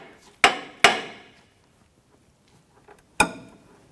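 Three sharp hammer blows ring out close by as a large dowel pin is driven to line up a ball joint bolt on a 2007-2017 Jeep Patriot, with two quick strikes, a pause, then a third.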